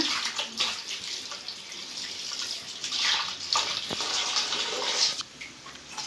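Fish for a home-cooked dish are washed under running water, a continuous close splashing gush with uneven surges, steady and fairly loud, with no voices.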